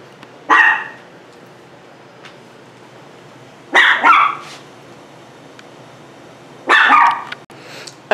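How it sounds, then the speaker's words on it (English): A dog barks in three short bursts a few seconds apart, loud and close, with quiet room tone between them and no talk. "Macy got the fussing because she heard another dog"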